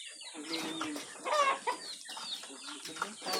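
A brooding hen sitting on eggs gives soft, low clucks and a few sharper calls, close by and fairly quiet, with faint rustling between sounds.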